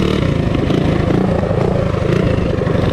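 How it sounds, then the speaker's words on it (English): Warrior and Trailhawk minibike engines roar loudly and steadily at close range during a street drag race, with a continuous rough buzzing drone and no speech. "A little drag racing with the Warrior and the Trailhawk, guys."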